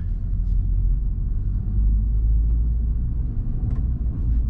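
A 2023 Honda Civic Type R with manual transmission pulling away uphill in first gear, heard from inside as a steady, loud low engine rumble with no distinct revving and no talking.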